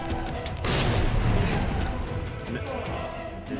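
A grenade explosion in the Resident Evil 2 Remake lands with a loud, broad boom and then a long rumbling decay, with speech over the game sounds.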